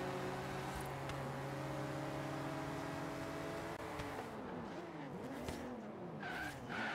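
Porsche racing car engine in Forza Horizon 3 at Surfers Paradise, a loud sustained engine whine with shifting pitch that drops and changes as the car races on, no talk over it.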